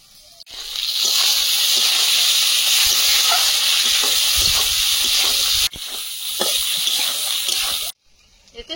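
Black cumin, chopped garlic and chopped onion sizzle steadily in hot fish oil, a loud continuous frying hiss that holds for several seconds, dips briefly, then cuts off near the end.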